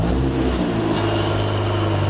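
Mercedes A45S AMG four-cylinder fitted with a new aftermarket exhaust, running a steady loud, deep idle close by right after starting.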